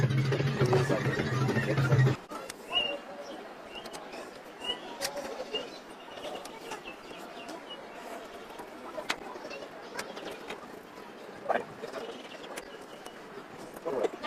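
Pigeons or doves cooing softly outdoors, with scattered faint chirps and calls over a quiet background, after a short louder burst of other sound at the start.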